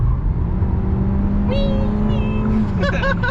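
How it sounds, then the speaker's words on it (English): Tires squeal briefly on a 2021 Hyundai Elantra cornering at speed with stability control off, a couple of short high chirps over steady engine and road roar inside the cabin. "Engine squealing away."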